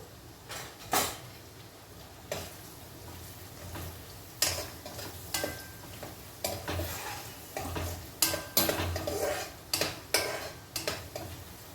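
Garlic and onions cook in a tempering with turmeric, giving a quiet, low sizzle. Repeated sharp clinks and scrapes of a utensil against the pan stand out, coming in uneven bursts.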